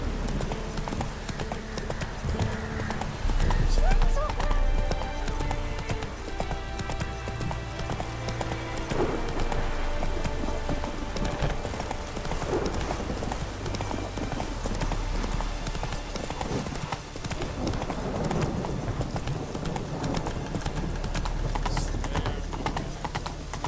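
Horse hooves clip-clop at a steady trot in The Witcher 3 video game, a continuous rhythmic patter over faint in-game ambience and background score.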